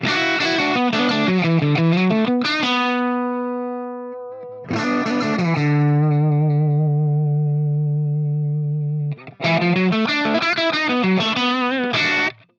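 Sustained electric guitar notes and chords, recorded with two out-of-phase microphones, ring out with a hollow, swirling comb-filtered tone, in three phrases separated by long decaying held notes.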